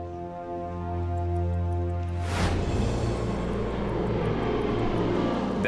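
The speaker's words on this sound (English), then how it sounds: "DC-4 hits the runway in Geraldton" A DC-4 propeller aircraft landing on a runway at Geraldton drones steadily with engine tones, then roars into broadband rushing noise from touchdown that continues loud to the end.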